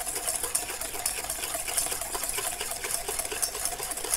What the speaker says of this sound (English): and whisk in your sugar